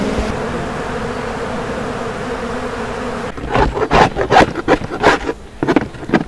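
Honey bees at an opened hive during a honey harvest in the Landes, a steady close hum that swells into louder, irregular bursts of buzzing in the second half.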